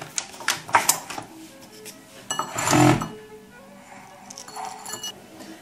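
Pesto ingredients are tipped and scraped into a bowl in a home kitchen, giving scattered glassy clinks and knocks, with a louder rattling clatter midway and quieter taps after.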